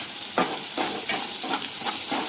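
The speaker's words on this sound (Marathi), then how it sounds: "कांदा पण मऊ होईपर्यंत परतून घ्यायचा आहे।" Onion sautéing in a pan before bhagar goes in, a steady close sizzle broken by regular scraping strokes of a spatula about every third of a second, with no talking.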